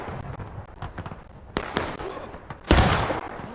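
Musket fire in the Civil War video game War of Rights: two or three sharp distant cracks, then a louder, closer shot near the end ringing out over a steady battlefield ambience.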